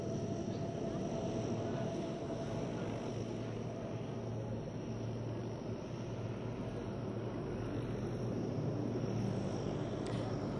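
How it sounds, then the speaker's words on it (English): A low, steady airplane engine drone rumbles continuously as the plane taxis into position near ambulances, with no clear change in pitch and a faint whistle above it. "the plane just positioning itself well around the ambulances"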